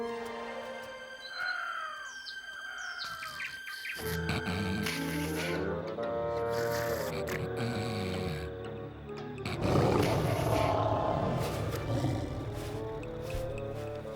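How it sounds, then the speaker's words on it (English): A lion roars in a cartoon, a loud, close, drawn-out growling roar, with bird calls before it and music and other background sound around it. "That lion sounds pretty ferocious and pretty close."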